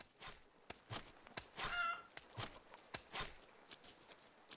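Chickens in the farming game Kynseed, short clucks and squawks in uneven bursts, fairly close and alone, with a few soft footstep-like taps between them.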